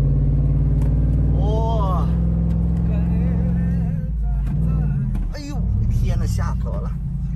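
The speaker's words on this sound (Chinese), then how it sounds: "我们这是一辆皮卡车。" A pickup truck drives across desert sand on a windy day, its engine a steady, close, low rumble that runs the whole way beneath people talking.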